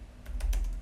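A few quick, light key taps on a computer keyboard, close and fairly quiet, ending in a slightly firmer press.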